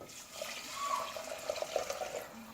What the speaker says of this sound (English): And then we're going to add 2 cups of water.